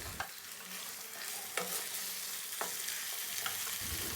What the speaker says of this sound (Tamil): சேர்த்துட்டு அந்த எண்ணெயிலேயே அந்த சிக்கன் நல்லா சுருள வதக்கணும்.